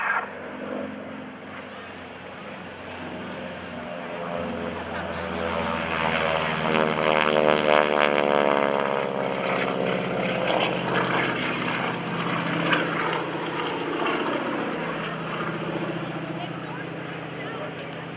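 A propeller airplane drones overhead at the 2012 NAS Oceana Airshow, its engine swelling as it passes close by and then fading slightly, with a steady buzzing tone throughout.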